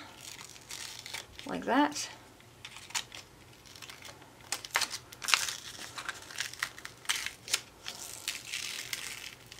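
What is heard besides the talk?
peeling Cricut vinyl off transfer paper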